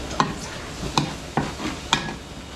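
Garlic sizzling in a pan with carrots and potatoes, with four sharp utensil stirs or scrapes clacking at a steady pace over the low frying hiss.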